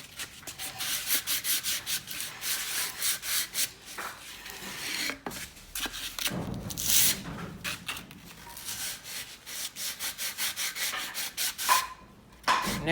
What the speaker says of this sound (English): I'm just sanding it